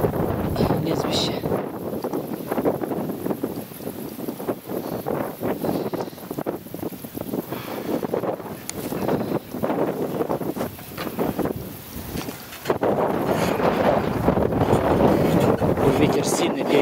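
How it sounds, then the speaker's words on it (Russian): Strong wind buffets the microphone outdoors in rural farmland, a continuous rough roar with gusty surges throughout, loud and close, while people talk underneath. "Ветер сильно перебивает. Все звуки сейчас будет перебивать."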